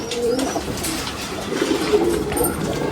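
Pigeons coo steadily in a loft holding around two hundred birds, several soft overlapping calls close by over a constant background hum, with no talking.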